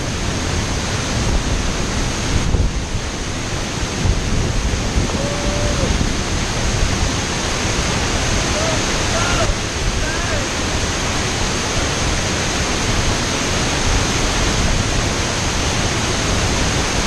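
Steady roar of a waterfall pouring off a mountain straight into the sea at Myeik, Myanmar, a dense continuous wash of falling water close by, with faint voices briefly under it.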